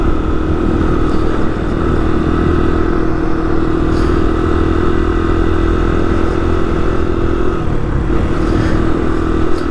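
Honda XR100 motorcycle ridden on a city street, its small single-cylinder engine droning loud and close throughout, with the pitch dipping briefly as the rider shifts gears.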